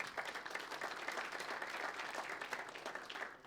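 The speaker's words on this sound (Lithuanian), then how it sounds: "Tad dar kartelį, plojimai Algirdui Plungiai." Steady audience applause fills an awards ceremony hall, a dense continuous patter of many hands clapping at even loudness for a few seconds, with no voices standing out.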